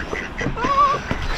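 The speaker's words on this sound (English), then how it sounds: "So come out the way, Mr. Duck." A duck gives a short nasal quack outdoors in the countryside, close by, a brief call over low background noise.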